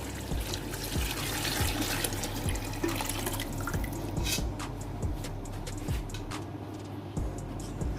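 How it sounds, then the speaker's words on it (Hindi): Mutton stock (yakhni) is poured into a cooking pot for mutton pulao, a continuous wet splashing and trickling with scattered drips and clinks, fairly close and steady throughout. "तो अब हम इसमें यखनी वो ऐड करेंगे"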